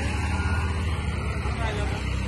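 Car driving past on a road near a temple during a family outing, a steady low engine rumble and tyre noise at moderate distance, with people talking throughout.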